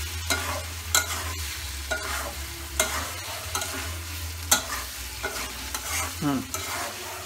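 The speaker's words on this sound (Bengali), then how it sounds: "পটলগুলা তরকারির মধ্যে দিয়ে দেবেন পটলটা ভালো করে একটু লাগিয়ে সাজিয়া মশলা দিয়ে একটু ভালো করে মাহাইবেন" Pointed gourd stir-fries with spices in a pan, a spatula scraping and tossing it in uneven strokes over a moderate sizzle, with no voices.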